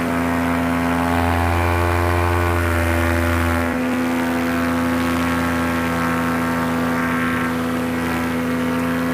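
A paramotor's engine and propeller drone steadily during a climb, a loud, constant harmonic hum with strong low tones that drop slightly in pitch about a third of the way through, continuing without pause and with no voices.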